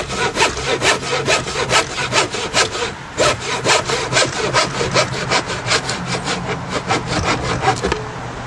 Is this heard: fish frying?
no